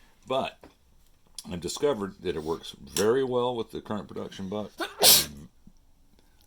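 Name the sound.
sneeze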